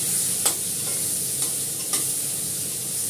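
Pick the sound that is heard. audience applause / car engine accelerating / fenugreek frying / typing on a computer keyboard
fenugreek frying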